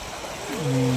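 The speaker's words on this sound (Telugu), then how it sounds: "ఇక్కడ త్రీ సిక్స్టీ ఫైవ్ డేస్ నీళ్ళు ప్రవహిస్తూనే ఉంటాయి" A steady, close wash of a hillside stream that flows year-round, with a brief tonal hum sliding in over it near the end.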